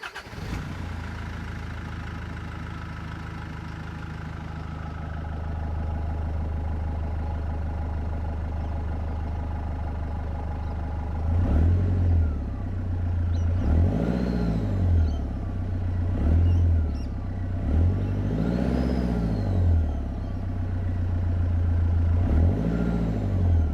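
A truck engine fitted with a Safari snorkel and 3-inch exhaust idles steadily, then revs up in four or five repeated bursts with rising turbo spool and whistle, close and loud with no talking.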